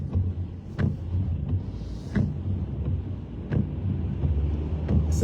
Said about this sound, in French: La circulation est dense.